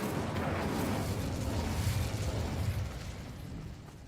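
A fire spell blasts out in the Hogwarts Legacy video game, a loud, sustained roaring burst of flame that rumbles for a few seconds before easing off at the end.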